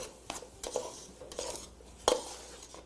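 Tomatoes being sautéed in a pan for an ora-pro-nóbis esfiha filling, with a few sharp utensil clinks and scrapes against the pan over a faint background.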